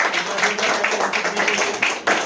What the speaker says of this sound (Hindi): एक बार जोरदार तालियां मेहनत जी के लिए